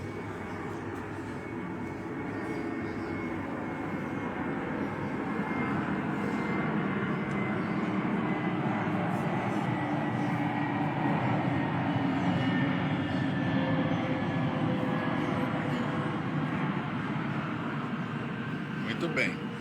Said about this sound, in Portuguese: depois que o avião passar eu continuo